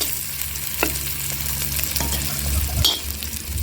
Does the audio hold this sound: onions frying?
yes